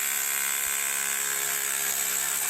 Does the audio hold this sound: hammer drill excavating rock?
yes